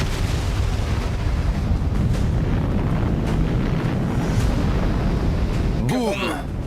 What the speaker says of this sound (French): boum! On voit une boule de feu qui monte à plus de 100 mètres de haut.